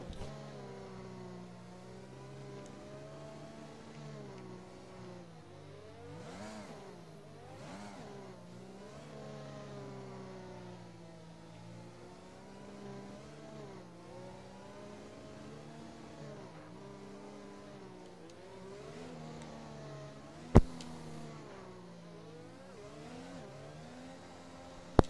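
Race cars on track in a racing video game, engines revving and accelerating with rising and falling pitch sweeps, moderately quiet and continuous, with a sharp click near the end.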